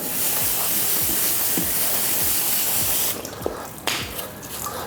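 Water sprays onto the brush of a Kärcher BR 35/12 C scrubber dryer, a loud continuous hiss for about three seconds, then stopping into lighter dripping and splashing with a few small knocks.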